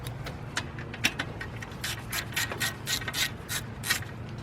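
A 3/8-inch drive ratchet works a nut off the alternator of a Ford Explorer or Mercury Mountaineer, giving quiet, quick clicking and rubbing strokes at close range, with no talking.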